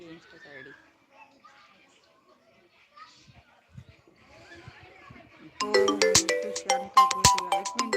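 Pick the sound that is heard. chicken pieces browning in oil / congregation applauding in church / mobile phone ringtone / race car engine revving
mobile phone ringtone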